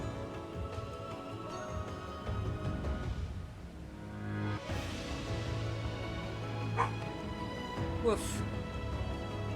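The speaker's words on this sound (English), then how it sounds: "He doesn't want out, he's just barking at the closed door." A pet dog named Mr. Biscuit barks at a closed door at home, a few sharp yaps and a whimper breaking through game music and talk, fairly near.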